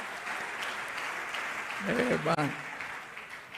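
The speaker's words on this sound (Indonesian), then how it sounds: "Tepuk tangan untuk orang Tanjung Pinang." A church audience at a Christmas youth revival service applauds in a steady, broad wash of clapping, with a voice talking over it partway through.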